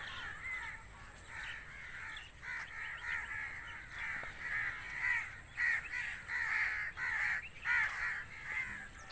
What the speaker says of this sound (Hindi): और ये कौवे